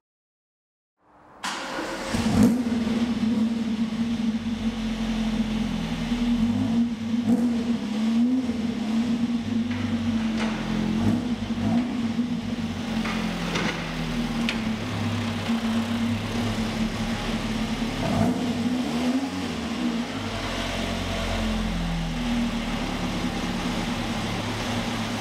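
A Ford XR2 fitted with throttle bodies fires up and runs close by, holding a steady droning engine note with occasional rises and blips of revving and no talk.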